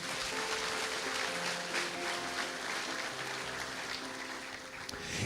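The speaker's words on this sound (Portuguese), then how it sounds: "Vamos aplaudir bem alto a Jesus?" An audience at a Christian conference applauds in a steady, even wash of clapping that holds for several seconds, heard faint and from a distance.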